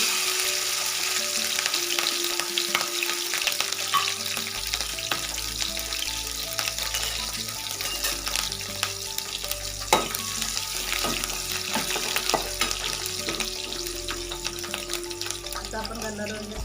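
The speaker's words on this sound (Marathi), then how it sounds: "आता आपण याच्यामध्ये घालणार आहोत थोडेसे जिरं, अर्धा चमचा। आता घालणार आहोत त्याच्यामध्ये हिरवी मिरची" Cumin seeds and green chillies crackle and sizzle in hot oil in a pan for sabudana upma, a steady, close spatter with sharp pops and occasional stirring clinks, under a low continuous hum.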